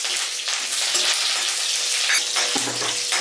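Mustard seeds and curry leaves frying in a pan of hot oil, a loud, dense, continuous sizzle and crackle with rapid popping, close up and without talk.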